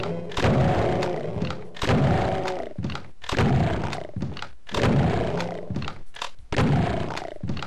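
Double-barrel shotgun blasts in Doom II, five heavy booming shots in a steady rhythm about every one and a half seconds, each loud and full with a roaring tail, alone without talk.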